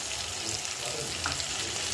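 Chicken curry masala sautéing in a pan makes a soft, continuous sizzle with faint watery bubbling, heard up close and fairly quiet.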